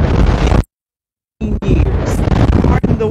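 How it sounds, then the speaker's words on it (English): Strong wind buffeting an outdoor microphone at a school track meet, loud rumbling gusts that drop out for nearly a second and then return in heavy bursts. "Pardon the wind, but I hope you can hear me"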